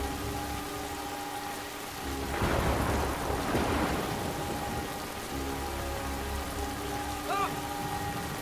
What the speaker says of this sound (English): Thunder lighting it up.